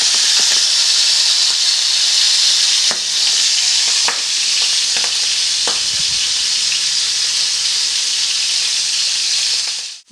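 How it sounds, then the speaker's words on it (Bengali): Fish pieces fry in oil in a pan over a low flame, a steady loud sizzle with occasional sharper crackles and spits, no voices. "মাছটা কিন্তু আমি লো ফ্লেমে করেই মাছগুলো ভেজে নিচ্ছি"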